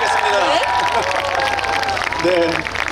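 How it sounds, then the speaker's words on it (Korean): Festival crowd at an outdoor Incheon civic celebration applauding and cheering loudly and steadily after a musical performance, with a voice speaking over the dense clapping. "여러분 더 큰 박수 부탁드립니다"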